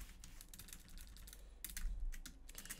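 Fingers type rapidly on a computer keyboard close by, a quick irregular patter of soft clicking keystrokes with short bursts and pauses, fairly quiet and heard alone.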